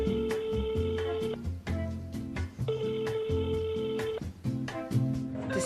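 A telephone ringing with an incoming call from an unknown caller, repeated melodic ringtone bursts in a regular pattern, fairly quiet and without talk.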